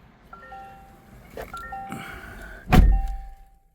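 Warning chime inside a 2026 Toyota RAV4 cabin: a series of clear electronic dings repeat over several seconds, followed by a sharp, heavy thunk close by.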